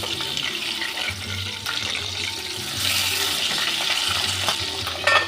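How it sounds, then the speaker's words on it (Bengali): Fish frying in oil in a partly covered pan in a Bengali kitchen: a continuous close, bright sizzle with a low hum underneath, no voices. "একটু ঢাকা ফাঁকা রেখে মাছগুলো ভেজে নেব।"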